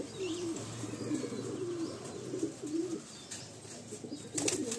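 Madrasi pigeon of a rare red colouring at a Kolkata loft gives a series of low, rolling coos, close and fairly clear over a soft background hum.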